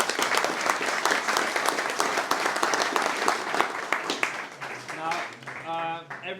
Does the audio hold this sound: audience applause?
yes